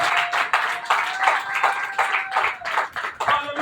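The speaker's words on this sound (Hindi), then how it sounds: "ताली बजाकर प्रभु का धन्यवाद" Church congregation clapping in thanks to the Lord during a healing service, a loud, crowded burst of applause with uneven rhythmic surges and a few sustained vocal tones mixed in.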